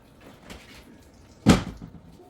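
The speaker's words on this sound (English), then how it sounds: "So I'm about to grab a strainer so that I can drain these in a strainer." A kitchen cupboard is opened to take out a strainer, giving one sharp close knock-and-rattle over quiet room tone, with faint handling sounds just before.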